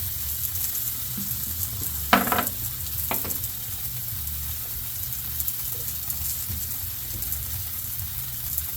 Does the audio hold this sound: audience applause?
no